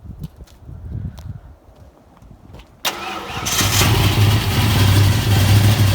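A 1965 Comet car engine cranks and fires up in the cold after quieter handling sounds, then settles into a loud, steady, rumbling idle close by.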